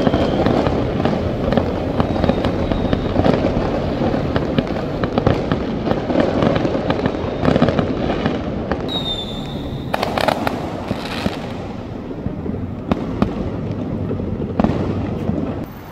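Fireworks and firecrackers go off in Georgetown, Malaysia, a dense continuous barrage of crackling bursts and booms, loud and steady throughout, with a few whistling rockets near the middle.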